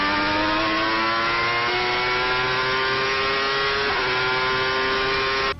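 A Formula 1 car's V12 engine howls at a sustained high pitch, holding a steady, piercing wail with one short dip for a gear change, loud and continuous until it stops suddenly.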